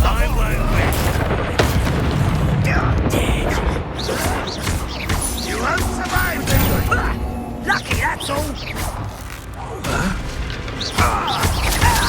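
Spell blasts and booming explosions in the video game Hogwarts Legacy, heavy crashing impacts spread through the scene with a voice shouting incantations over them.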